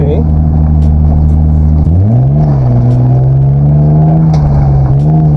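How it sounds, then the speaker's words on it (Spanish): A drift car's engine is held loud and close at high revs. Its droning pitch dips sharply, then climbs and holds again, with occasional faint background noise. "Déjalo cargar más, déjalo revolucionar más"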